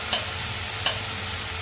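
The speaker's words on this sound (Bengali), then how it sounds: "আমার মশলাটা ভাজা হয়ে গেছে, যে তেল ছেড়ে দিয়েছে" Spice paste fries in oil for soya palak, a steady broad sizzle with two quick stirring scrapes of a utensil in the pan.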